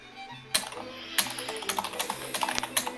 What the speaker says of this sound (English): You're typing pretty loud. It's coming through.